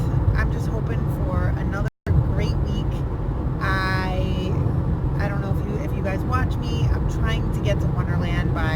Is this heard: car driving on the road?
yes